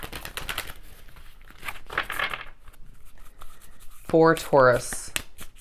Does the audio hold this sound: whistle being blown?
no